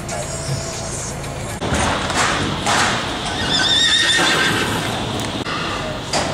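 A horse whinnies during transport on a horse truck, over steady background rumble and shuffling, with a voice talking partway through.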